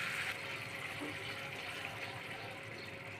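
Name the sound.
water poured into cooking pan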